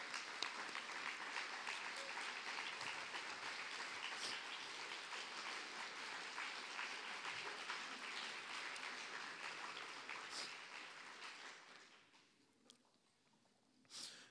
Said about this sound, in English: Join me in standing and applauding these incredible sponsors